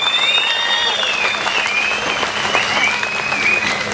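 An audience applauds steadily at a public speech, a dense, sustained wash of clapping close by, with a faint whistle-like tone riding above it.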